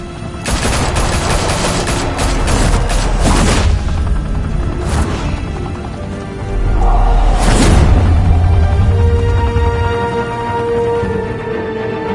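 Rapid bursts of loud automatic gunfire rattle through a Batman video game shootout, with dense volleys, a brief lull, then another heavy burst with a deep boom before trailing off.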